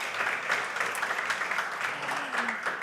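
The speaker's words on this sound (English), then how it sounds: "give a round of applause to Ringo" Round of applause for Ringo from a student audience at a campus event, steady dense clapping at moderate volume throughout, with a faint murmur of voices underneath.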